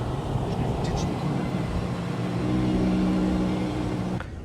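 During Monterey Car Week on a rainy early morning, a car drives past on the street. Its engine hum rises and holds briefly over steady wet-road hiss before fading.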